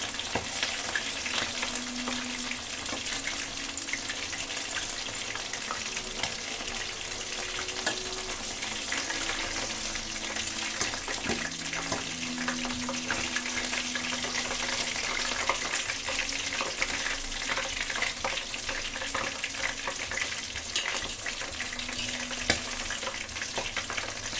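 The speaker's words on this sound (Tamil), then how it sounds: "நான் ஃபிஷ் ஃப்ரையும் பண்ண போகிறேன்." Fish fries in a pan of oil on a slow flame, a dense continuous crackling sizzle holding steady and close throughout, with faint tonal clinks here and there.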